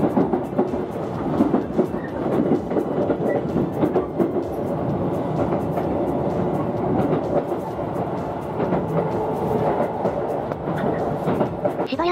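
A Keisei Electric Railway train pulls into Keisei Narita Station, a steady loud rumble with rhythmic wheel clatter over rail joints, heard from on board throughout.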